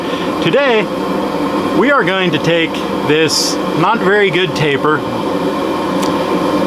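A blacksmith's forge roars steadily in the background as a steady broadband rush, sitting beneath someone talking close to the mic.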